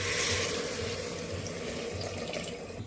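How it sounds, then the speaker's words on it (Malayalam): Plain water poured into a pressure cooker for biryani, a steady, close splashing flow running continuously without pause. "ഇതിലോട്ട് നമ്മൾ സാധാരണ പച്ചവെള്ളമാണ്"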